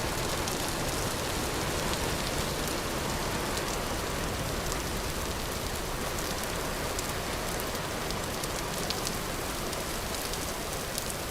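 Steady rain falls in the survival game Vintage Story, a soft, even hiss of drops that holds at constant low volume throughout with no voices.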